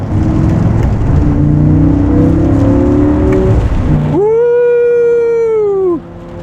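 A 2012 Audi R8 V10 roars loudly after a downshift, its engine note climbing in a rising, steady howl as the car accelerates hard on open road, alone with no talk.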